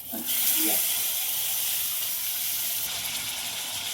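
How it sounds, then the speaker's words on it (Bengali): Chicken marinated in lemon juice and salt lands in a hot pan with green chillies and curry leaves for a dry chicken dish, setting off a loud, steady hiss of sizzling that carries on unbroken with no talking. "এবার লেবুর রস, নুন মাখানো চিকেনগুলো দিয়ে দেবো।"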